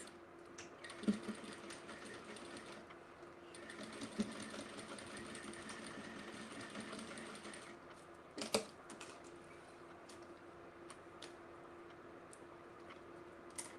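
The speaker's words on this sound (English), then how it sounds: "we're going to go ahead and stitch that side using a 1/4 inch seam allowance" A sewing machine runs in steady bursts while stitching a 1/4 inch side seam on a fabric bag gusset, its fast mechanical chatter continuous for most of the stretch with a few brief pauses and clicks.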